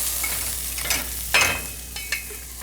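Onions frying in a pan for curry, a steady close sizzle broken by a few scraping stirs of the spoon, with no voices.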